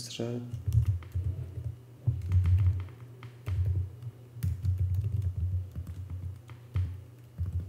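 Typing on a computer keyboard during web app localization work, with quick irregular bursts of key clicks close up and a low background hum.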